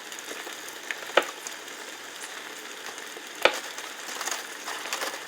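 Steak sizzling quietly on a George Foreman grill: a soft, steady crackle of frying with a couple of sharper pops standing out.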